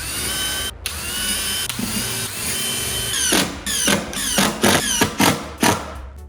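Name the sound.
power drill driving screws into wood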